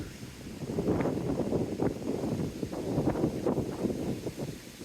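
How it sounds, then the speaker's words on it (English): Strong wind buffets the microphone in a continuous low roar, gusting and surging steadily throughout with no voices. "It's very windy and it's just getting windier."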